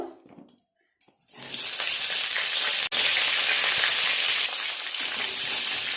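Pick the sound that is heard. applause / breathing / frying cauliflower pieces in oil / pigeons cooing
frying cauliflower pieces in oil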